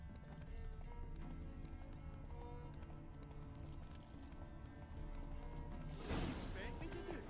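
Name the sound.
limping horse hooves in video game The Witcher 3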